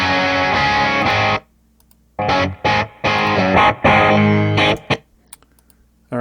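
Electric guitar with dead strings, played back through a filter effect, comes in two bursts of distorted, processed chords with short gaps and choppy stops between phrases.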